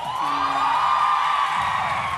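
A contestant's supporters cheer and whoop in a TV game-show studio, a loud sustained crowd shout with a rising yell near the end.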